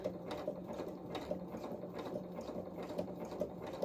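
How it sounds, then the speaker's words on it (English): A sewing machine stitches a zigzag on a small doll-sized coverall, a faint, fast, even mechanical whirr with a regular ticking pulse about twice a second, running alone with no talk. "So a few stitches in place, and then the zigzag is going to start."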